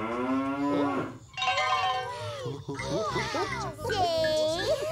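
A cow lets out several drawn-out moos in quick succession, loud and close, mixed with excited children's voices.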